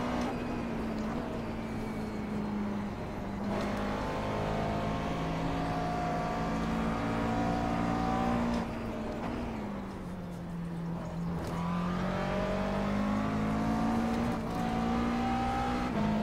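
A McLaren MP4 12C GT3 race car in iRacing at Road Atlanta runs alone with a loud, close engine note, revving up and down through gear changes, with dips under braking and climbs on acceleration.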